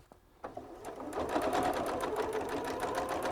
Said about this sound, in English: run a seam all the way along the bottom edge of your fabric